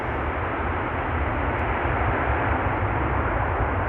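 A heavy airliner lands at Amsterdam Schiphol, its main gear touching down and rolling out: a steady, loud broadband roar of engine and wind noise with a low rumble, continuous throughout with no speech.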